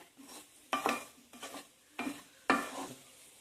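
Potatoes with turmeric powder stirred in a hot pan, a few distinct scraping strokes of a spoon against the metal over a light sizzle, close and moderately loud with short pauses between strokes.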